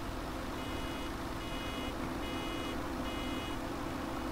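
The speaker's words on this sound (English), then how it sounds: "So every time that beep happens, it's going to push a pallet out." A pallet filling station in Farming Simulator 17 gives faint repeated electronic beeps in short bursts over a steady low machinery drone, with no talking.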